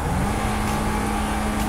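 Car in the video game GTA V accelerating hard, a loud steady engine roar held throughout the brief moment.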